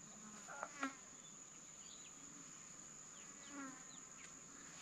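Bees buzz faintly in short passes near a large dam while fishing, their thin whines drifting in and out over a steady high insect drone and open outdoor hush.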